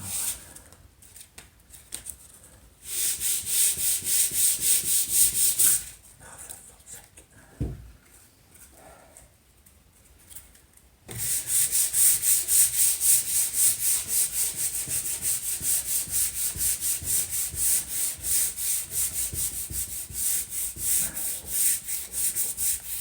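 A round sanding pad works across a wooden kitchen table in long rasping bursts, first stopping and starting, then settling into a steady rhythmic back-and-forth scrub, close and fairly loud with no talk.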